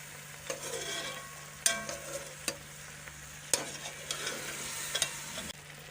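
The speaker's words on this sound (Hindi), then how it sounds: "अब गोश्त को अदरक और लहसुन के साथ 5 से 6 मिनट तक अच्छी तरह से भून लेंगे।" Meat with ginger garlic paste frying for Peshawari namkeen gosht: a steady sizzle under a low hum, with sharp scrapes and knocks as the pan is stirred every second or so.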